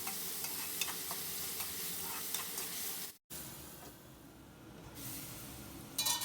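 Onions with a pinch of turmeric sizzle in a pan under a lid, a steady hiss that cuts out briefly midway and then resumes more softly, with a brief clatter at the end.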